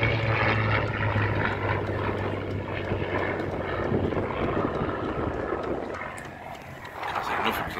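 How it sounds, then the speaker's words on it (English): A P-51 Mustang propeller aircraft flies low over Sywell Aerodrome, its engine drone steady and loud throughout, swelling and then easing as it passes. "Oh, it's the Mustang."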